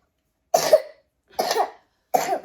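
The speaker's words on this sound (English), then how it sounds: "do we cover our mouth when you cough?" A toddler coughs three times, evenly spaced, close by in a quiet setting on a long-haul flight.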